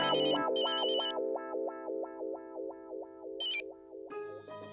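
A phone ringtone plays while a call is placed: a synthetic electronic melody repeating in short, even pulses, with brighter chiming bursts at the start and end, heard alone without any speech.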